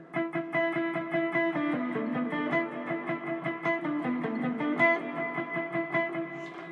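A distorted electric guitar plays a simple walk-down line for the worship song Oh The Cross, picked notes stepping steadily downward and back, moderately loud and alone.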